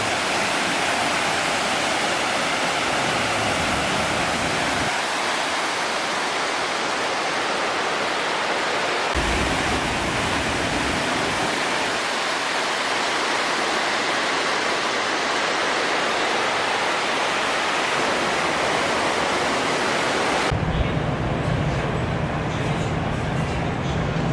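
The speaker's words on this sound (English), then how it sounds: "Also had an unbelievable view of the outdoor waterfall." A continuous broadband rush of falling water fills the scene, loud and steady, with abrupt shifts in tone as the perspective changes.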